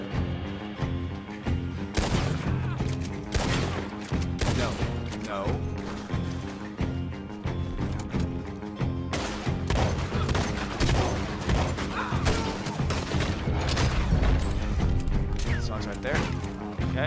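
Dense video game gunfire in the shooter Most Wanted, rapid bursts of loud shots and impacts running nearly nonstop, with a player talking over the action.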